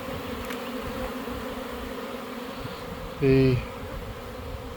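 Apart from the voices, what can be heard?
honeybee secondary swarm buzzing around hive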